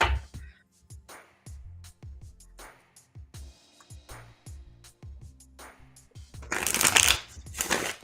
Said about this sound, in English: There we go. Nice shuffle.